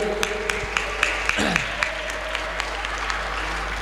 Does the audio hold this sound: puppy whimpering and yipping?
no